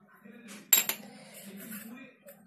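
Metal spoon stirring ground salt, cumin, garam masala, black pepper and red chilli powder together in a dish for green peas paratha filling, two sharp clinks amid soft scraping, close and alone.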